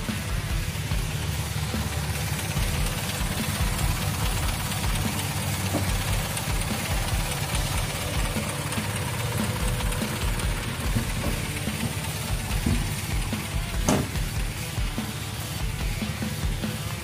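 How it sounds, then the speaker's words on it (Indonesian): The engine of a 1961 Land Rover Series runs at a steady idle with a low, rumbling chug and a slight knock, heard close and continuous throughout, without speech. "Mesinnya langsung hidup."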